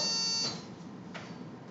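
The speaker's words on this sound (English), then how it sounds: "Let's try buzzers first." A quiz buzzer sounds at a fifth-grade knowledge bowl in a classroom, a short electronic tone that cuts off after half a second, followed by a faint second click or press.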